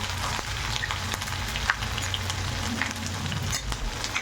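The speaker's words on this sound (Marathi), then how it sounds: "आपली मोहरी आणि जिरे चांगले तडकले आहेत" Mustard seeds and cumin crackle in hot oil, a dense close sizzle with sharp scattered pops and spits throughout, steady and moderately quiet with no talking.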